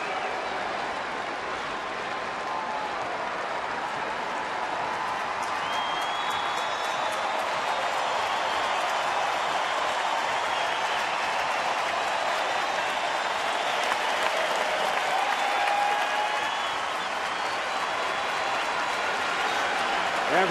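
Sellout baseball crowd on its feet applauding at a Minnesota home game against Chicago, a dense sustained roar of clapping and cheering that fills the whole stretch, broad and loud with faint whistles drifting through.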